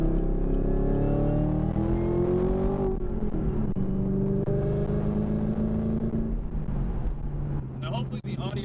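Steady road roar of a car cruising on a freeway, with engine drone and tire hum, and a voice talking over it.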